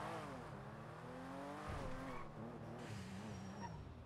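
A car drives in the video game GTA V on a NoPixel roleplay server. The engine hums steadily and rises and falls in pitch as it revs, with brief tire-skid textures and no talking.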